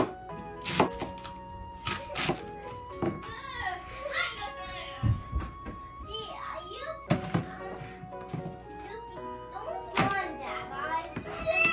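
Knife slicing washed cabbage thinly on a board for countryside-style fried cabbage, giving sharp thunking chops in irregular bursts, close and clear, with a voice and other talk mixed in between.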